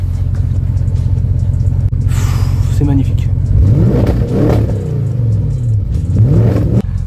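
An Audi RS6 engine with its exhaust removed rumbles close by and revs up in rising, roaring bursts, with someone speaking briefly over the noise.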